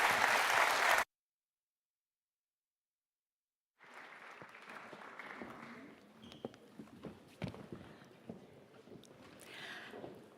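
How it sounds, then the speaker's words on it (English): Audience applause at a forum session, a brief loud burst of clapping that cuts off abruptly, followed after a silent gap by scattered, quieter clapping and room noise. "we'd like to have your applause"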